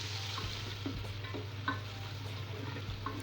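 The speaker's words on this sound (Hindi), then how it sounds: "अम्मी ने इसलिए हल्दी पहले डाल दी है कि हल्दी जो है वो तेल में फ्राई होने से क्या होता है उसकी स्मेल ख़त्म हो जाती है" Turmeric powder fries in hot oil for aloo tahari while being stirred, a soft, close sizzle with light scraping taps every half second or so beneath a low steady hum.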